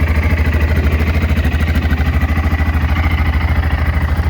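A 2003 BMW F650GS Dakar adventure motorcycle's single-cylinder engine running steadily at idle, a loud, even, low throbbing pulse with light mechanical clatter, close by and alone with no talk.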